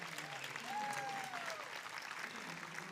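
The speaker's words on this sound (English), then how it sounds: "Let's give them a round of applause." An audience at a medical school physician assistant program commencement gives faculty and staff a round of applause, a fairly faint, even wash of clapping heard from a distance, with a faint voice under it.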